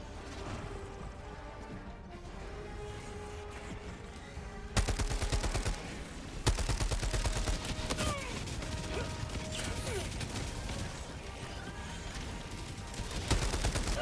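Gunfire, heavy blasts and mechanical clatter from a Helldivers 2 fight against bots, with rapid bursts that get sharply louder partway through and then hold as a dense, continuous barrage.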